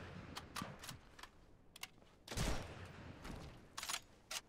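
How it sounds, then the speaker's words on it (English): Gunfire in the multiplayer video game Sniper Elite 5 crackles as several sharp distant shots and short bursts at irregular intervals, with one heavier blast in the middle, all fairly faint. "Shots."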